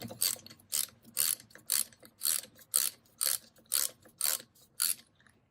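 A fine-threaded bolt being unthreaded with a ratchet during a Kohler KT17 engine teardown, ten evenly spaced, close ratcheting clicks in a steady rhythm, with no talking.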